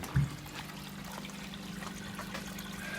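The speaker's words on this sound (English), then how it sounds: "So I'm just doing some tests now, filling the beds up." Water pours steadily into aquaponics grow beds while a siphon is being tested, a continuous close trickle and splash with a faint low hum beneath it.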